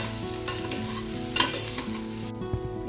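Flat beans fry in a pan with a peanut-sesame spice powder, a steady close sizzle broken by a few scraping stirs of the spoon, with no voices.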